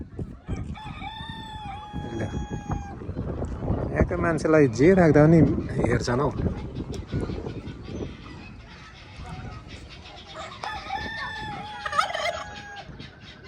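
Roosters crow in long, wavering calls at the start and again near the end, while turkeys gobble and other fowl squawk loudly in between, with people talking over the birds throughout.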